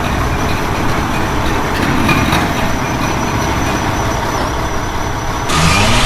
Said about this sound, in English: you can still hear how loud these trucks are in the background here